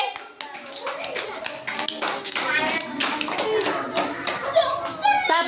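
Children clapping their hands together in a classroom activity, a quick, steady run of many sharp claps close by, mixed with children's voices chattering over it.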